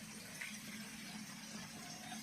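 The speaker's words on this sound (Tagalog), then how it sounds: "Lagyan ng tubig kaunti para Sumabaw" Water poured in a small amount into a pan of adobo cooking in oil, a steady soft gushing splash running throughout at low level.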